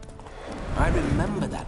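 In The Witcher 3: Hearts of Stone, hooves clop steadily while a horse whinnies, with a voice speaking over them, all fairly close.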